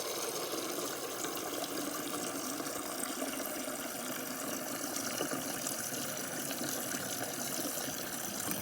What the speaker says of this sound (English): And your water, you're gonna fill it up to 2 cups.